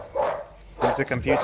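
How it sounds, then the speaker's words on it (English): A small dog yapping in a couple of quick bursts, fairly close, mixed in with someone talking over a gaming chat. "There's a doggo yapping away."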